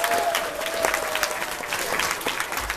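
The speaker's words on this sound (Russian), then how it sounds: "Давайте похлопаем их!" An audience applauds costumed dancers at an outdoor folk dance gathering in a field, a brief burst of dense clapping from a crowd at moderate distance.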